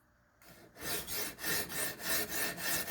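A knife blade is drawn across a Ruixin Pro RX-009 sharpening stone to clear a burr, and the strokes come as regular rhythmic raspy rubs, about two per second, close and fairly loud with no voices.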